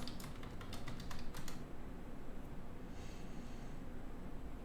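Rapid keystrokes on a computer keyboard entering a password, a quick burst of close clicks early on, then steady low background hum with little further tapping.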